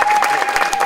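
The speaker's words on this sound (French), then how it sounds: "Nous applaudissons très fort pour notre Dieu." A church congregation clapping hard and fast in a quick burst of rhythmic, loud applause, with a sustained tone held steady underneath.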